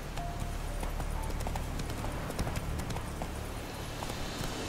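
Horse galloping in The Witcher III, a steady rapid clip-clop of hooves with occasional snorts over continuous game ambience.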